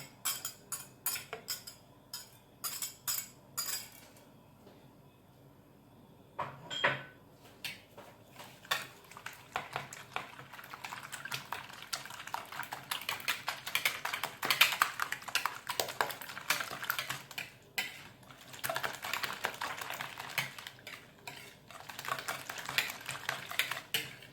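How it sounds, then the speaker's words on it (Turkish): Eggs with peppers and parsley are whisked in a bowl for an omelette, a fork or whisk clicking and tapping in quick irregular bursts against the sides, with a brief pause partway through, fairly quiet and with no talking. "biberimizi ve maydanozlarımızı ekleyip bunları bir çırpalım."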